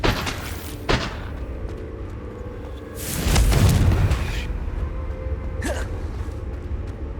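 A Confringo spell explosion in the video game Hogwarts Legacy, a loud booming burst near the middle rising from a sharp hit and rumbling off over a second or two, among other brief magical cracks.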